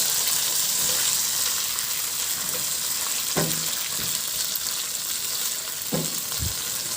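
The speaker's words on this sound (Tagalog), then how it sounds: "Nagpatunaw na ako ng butter at maglagay na rin ako ng ketchup." Butter and ketchup frying together in a pan while pork liempo is cooked, giving a steady hiss of sizzling with a few light scraping stirs and clinks, close up and without speech.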